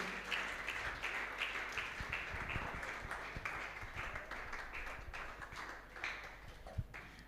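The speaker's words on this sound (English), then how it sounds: "Please keep clapping," An audience at a youth leadership debate semi-final claps continuously, a faint, distant patter of many hands with scattered sharper claps, steady for several seconds.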